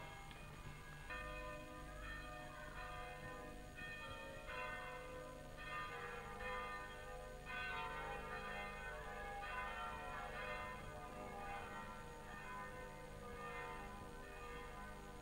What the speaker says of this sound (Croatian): Naša lipa zvona zove kroz sva vremena Korčulane na svoje svetinje, fešte.